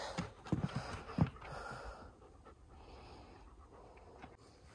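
A livestock guardian dog pants in the heat of a greenhouse, with quick, close breaths that are loudest at the start and then fade into softer, steady panting.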